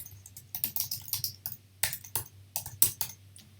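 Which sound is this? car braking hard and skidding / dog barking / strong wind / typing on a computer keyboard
typing on a computer keyboard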